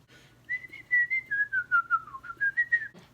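A person whistles a clear, wavering melody of about a dozen short notes, rising and falling in pitch, close to the microphone with a faint low hum underneath and no talking.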